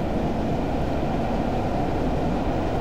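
A Class 111 diesel multiple unit in Train Simulator 2015 gains speed on the Dumfries to Kirkcudbright line, its engine a steady, loud, low rumble with rail noise and no talking.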